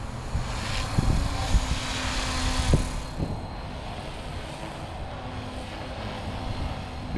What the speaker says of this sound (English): All right, that RPM is much better. Nice cruising RPM.